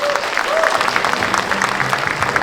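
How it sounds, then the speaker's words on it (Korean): A crowd at a Korean Democratic Party rally in Gwangju claps steadily and loudly for a couple of seconds, a dense even wash of hands with faint murmurs underneath. "역시나 또 큰 박수 소리가 나오는 것 같습니다"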